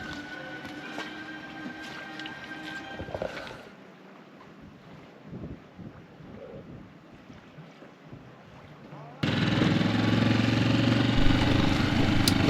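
A sailboat motors under engine in the Exumas Land and Sea Park, with a steady low engine drone mixed with wind buffeting; the sound grows louder and denser in the final few seconds.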